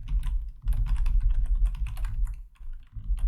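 Steady typing of code on a computer keyboard, a close, continuous patter of keystrokes with a low background hum and brief pauses.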